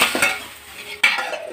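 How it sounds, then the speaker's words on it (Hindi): Hot oil sizzles as spices hit the pan for a tadka tempering for boondi raita, with bursts of crackling and a metal utensil clinking and stirring; no voices. "तेल अच्छे तरीके गर्म हो गया और इसमें आग भी पकड़ ली है। अब हम लगा देते हैं तड़का"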